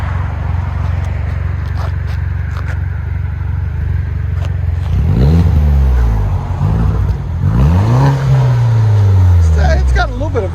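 A 2009 MINI Cooper Clubman Turbo S with a muffler delete and dual exhaust revs up twice in the second half, deep swelling blips over a steady idle, close by, with people talking around it.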